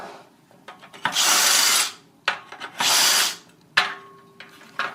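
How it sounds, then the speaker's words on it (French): A power drill bores holes through a metal post and its base plate in three loud, sustained bursts with short pauses and scraping clicks between them. "on positionne le gabarit comme ceci et on perce à ce niveau-là"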